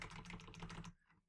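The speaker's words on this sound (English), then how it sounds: "I'm just going to type in some random keywords" Rapid typing on a computer keyboard, a steady run of close, crisp key clicks for about a second before the keys go quiet.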